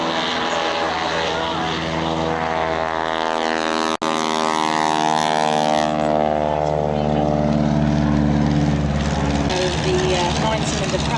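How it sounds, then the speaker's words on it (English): Beaver aircraft with a 9-cylinder Pratt & Whitney radial engine passing at an airshow, a loud propeller drone that shifts in pitch as it flies by, with a commentator speaking over it. "The 9-cylinder Pratt & Whitney radial engine."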